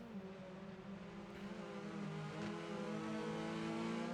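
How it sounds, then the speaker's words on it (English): Hyundai Elantra TCR race cars in the RENNSPORT racing game at Road Atlanta, front-wheel-drive touring cars whose engines drone steadily and build slightly as they run close together, with no voices. "Onimachi in his mirrors, the second of the Dazzle-liveried Hyundai Elantra TCRs"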